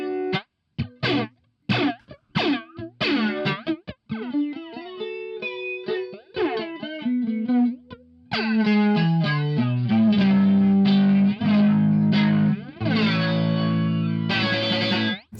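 Electric guitar played through a single multi-effects pedal, heavily distorted with chorus and effects: a run of plucked notes, then sustained bent tones and loud, dense sustained chords, up close with no talking.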